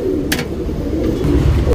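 A male tournament pigeon of the Gerwal breed coos close by, a low continuous throaty rolling burble, with a brief higher chirp near the start.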